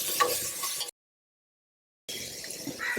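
Ginger, garlic and green chilli paste sautéing in a pan for prawn biryani, with a steady close sizzle and faint stirring scrapes, broken by a full second of silence in the middle.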